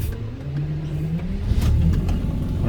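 The V12 engine of a barn-find Jaguar XJS revs up on a test run after fuel system work, a close, loud rumble that rises steadily in pitch.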